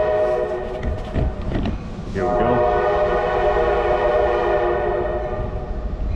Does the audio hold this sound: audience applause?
no